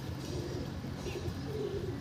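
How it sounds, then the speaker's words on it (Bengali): A Kalsira pigeon, a house-kept loft bird, gives soft, low cooing, a faint murmuring coo close by against a dull background hum. "এটা কালসিরা পায়রা"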